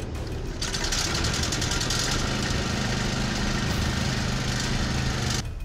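A diesel generator, just reconnected after repair, catches and settles into a loud, steady idle, a continuous close-up mechanical drone with no talk over it.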